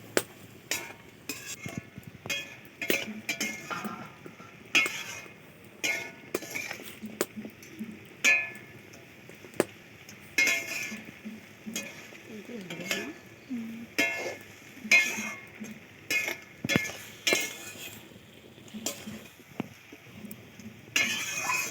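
Green chili paste and crushed garlic being mixed in a cooking pot for a bottle gourd shoots curry, with repeated close scraping and clinking strokes of a spoon against metal, set under a speaking voice.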